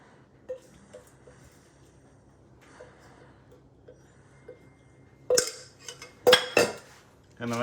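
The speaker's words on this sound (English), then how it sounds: "So now we're plating them onto the plate." Grilled spot prawn salad with fried shallots and lemongrass being plated: quiet scattered taps at first, then a few louder clinks and scrapes of utensils against a plate near the end, with no talk.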